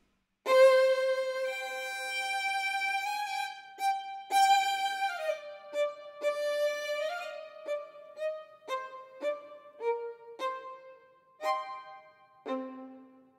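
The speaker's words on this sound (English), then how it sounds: "Here as well, you can activate the legatos," Sampled violin plays a slow legato line, each note sliding smoothly into the next, clear and isolated with no other sounds.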